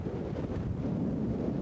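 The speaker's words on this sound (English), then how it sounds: "Quite windy up here on top." Wind gusts across a hilltop, buffeting the microphone in a low, continuous rumble of fairly steady strength with no voices, during a 1995 Quoich River trip.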